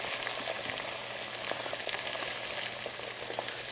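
An egg frying in a small pan gives a steady, even sizzle at moderate loudness, alone and without talk throughout.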